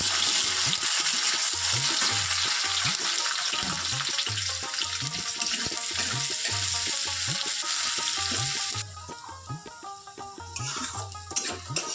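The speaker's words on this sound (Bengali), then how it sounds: "পেঁয়াজটা লাল লাল করে ভাজা হয়ে গেছে" Onions, with a little meat, garam masala and cumin, fry in a pan for home-style biryani, giving a steady broadband sizzle and repeated rhythmic stirring scrapes that run close and loud throughout, easing slightly near the end.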